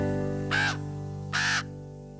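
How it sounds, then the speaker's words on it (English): A raven cawing as a sound effect, two loud, harsh caws about a second apart over a steady droning background tone. "as Edgar Allan Poe said, quoth the raven"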